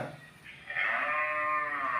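A human voice imitates a bull, giving a drawn-out, nasal bellowing call that swells and holds for over a second.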